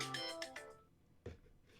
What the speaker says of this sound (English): Is that the default ringtone from Apple?